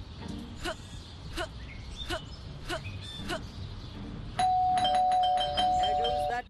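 In the Scary Teacher 3D video game, a doorbell rings with a steady electronic tone that holds for about two seconds, loud and close. Before it comes a series of light repeated clicks or chirps over a background hum.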